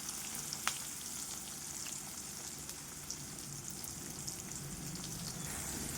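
Onions and curry leaves sauté in a pan, making an even, crackling sizzle with faint pops throughout and no voices.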